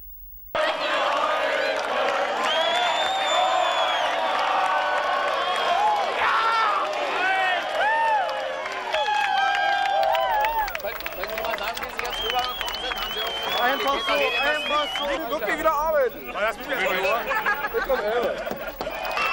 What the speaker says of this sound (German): Dann Jubel, Freiheitsrufe, Bilder, die für sich sprechen.